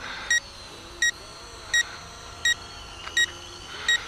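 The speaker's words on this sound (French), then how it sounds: "Bip bip bip, là c'est des bips réguliers, ça veut dire qu'il faut que je le ramène." A small camera drone sounds regular warning beeps, six short evenly spaced high-pitched tones over a faint background hum, close by.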